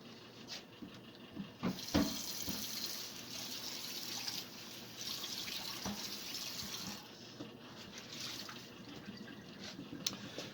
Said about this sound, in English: now I'm going to pour this into my cocoa cup.